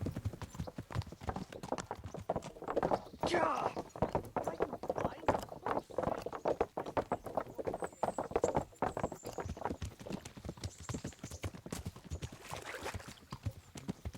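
Horse hooves clip-clop steadily on the ground in the medieval game Kingdom Come: Deliverance, a continuous rhythmic trot at moderate loudness with some talk over it.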